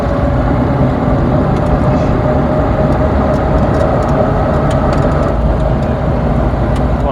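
A Dodge Coupé hot rod with a 6.6-litre engine drives along, its loud, steady engine and road roar filling the whole stretch without letup.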